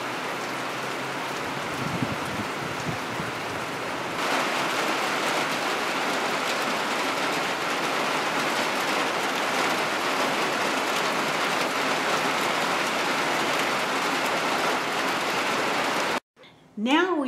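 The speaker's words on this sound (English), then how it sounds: "It's still raining, have a few more hours of rain" Steady rain pours outdoors during a flood, with heavy water noise and waves, a dense continuous hiss that grows fuller after a few seconds before cutting off near the end.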